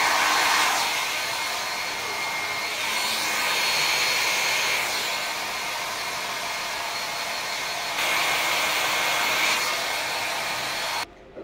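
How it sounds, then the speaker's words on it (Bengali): A hair dryer blows steadily while drying hair, a loud broadband rush that rises and dips in strength as it is moved about, then cuts off abruptly at the end. "তো এটাকে এখন ড্রায়ার দিয়ে আমাকে ড্রাই করতে হবে"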